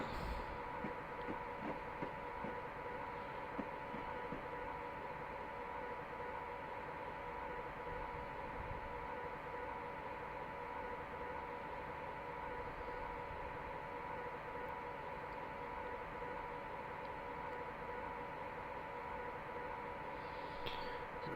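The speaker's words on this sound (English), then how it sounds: "Let's let the entire train go onto the platform here." Class 89 electric train running from Carlisle to Glasgow Central in Train Simulator Classic, with a steady faint electric whine over a soft rolling rumble and occasional light rail clicks, continuous and even.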